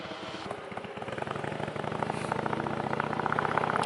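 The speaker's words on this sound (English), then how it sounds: "Motorcycle." A motorcycle engine rumbles steadily nearby, its revving growing slightly louder and rougher over a few seconds, with no talking.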